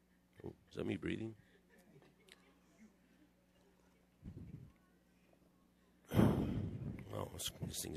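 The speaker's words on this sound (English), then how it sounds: "It's picking up my breathing." Close breathing picked up by a microphone, with a few soft sighing breaths and short gasps in otherwise quiet surroundings, followed by a louder burst of breathy noise near the end.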